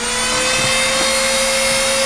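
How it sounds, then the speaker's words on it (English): A Dremel rotary tool, used for wood carving, whirs at full speed in a steady, loud, high-pitched whine with a constant tone and no pauses. "reach my arm across, turn my Dremel on"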